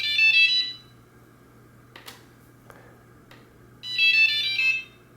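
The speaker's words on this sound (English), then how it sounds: "it has a really loud beep that you can't shut off" An iRobot Braava 320 mopping robot emits loud, shrill electronic beep bursts, one at the start and another near the end, with faint clicks and a low steady hum between them.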